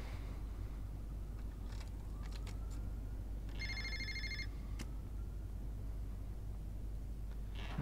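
A telephone rings in the video game Fahrenheit, a short electronic ring burst midway over steady low background hum, with no talk.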